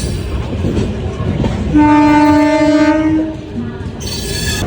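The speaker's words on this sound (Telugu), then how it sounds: "మన ట్రైన్ అయితే పోతుంది" A train horn blares a long, steady harmonic blast over rumbling rail noise as the train departs Secunderabad, with a shorter distant horn toward the end.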